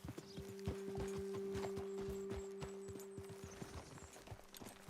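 Horse hooves clip-clopping in Red Dead Redemption 2, a steady rhythm of close, distinct hoofbeats with a constant low tonal hum underneath, no talking.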